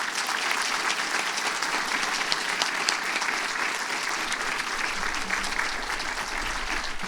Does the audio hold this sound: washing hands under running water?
no